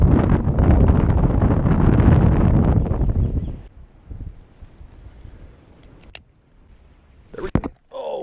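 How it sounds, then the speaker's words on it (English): Strong wind buffeting the microphone at a farm pond, a loud roaring rumble for the first few seconds that drops away to quieter gusts and a few brief rustles. "That wind is crazy right now."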